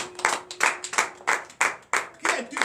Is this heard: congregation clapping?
yes